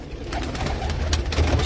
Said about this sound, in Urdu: ٹیڈی کبوتر ہیں جی